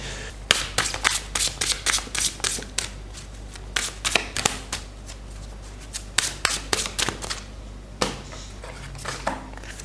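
Tarot cards being shuffled by hand, with rapid, repeated snapping riffles and slaps in an even rhythm, close and clear throughout with no talking.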